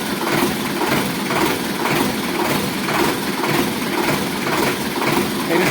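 A Sonalika tractor engine idles with a steady, loud mechanical drone and a faint regular pulsing, continuous with no voices.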